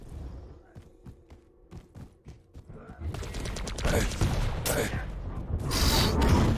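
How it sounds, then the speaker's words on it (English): Lightning gun fire crackles in a Quake Pro League match: a rapid run of sharp, evenly spaced shots gives way to a louder, dense buzzing barrage with heavy in-game effects, and a commentator's voice sits partly underneath. "Shot after shot from the LG"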